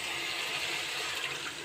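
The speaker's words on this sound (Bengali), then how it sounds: "জল দিয়ে দিচ্ছি" Water pours steadily into a pan of cooked-down masala for a rohu fish curry with onion and potato, a continuous close gush and splash with no talk.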